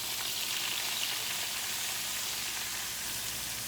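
Flour frying in oil to make gravy for crusted cube steak, a steady, even sizzle and crackle close up with no voices.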